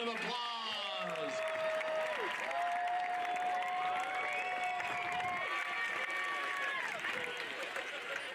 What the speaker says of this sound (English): Let's give a big, big round of applause.